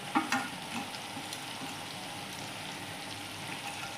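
Cumin, coriander and red chilli powders fry in a pan for dal palak, giving a soft, steady crackling sizzle with a small clink at the start and no voices.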